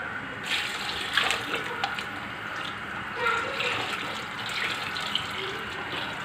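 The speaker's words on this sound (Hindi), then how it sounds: "अब मैं शामिल कर रही हूँ पानी।" Water is poured into a pot of finely ground haleem ingredients nearby, a continuous splashing gush with small clinks, fairly loud and steady throughout.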